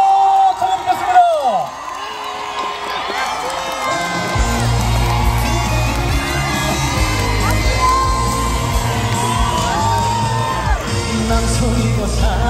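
Audience at an outdoor trot singers' festival at Imsil Theme Park cheers, whoops and claps for a singer's stage, a loud, steady crowd roar with scattered shouts that swells after a few seconds and continues under music.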